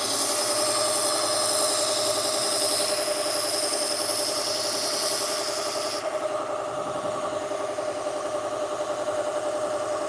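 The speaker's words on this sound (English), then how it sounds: "On this belt sander, I have my angle guide." A belt sander hums steadily with a bright abrasive hiss while a chef's knife is sharpened against the belt using an angle guide. The grinding cuts off partway through, leaving the motor running alone.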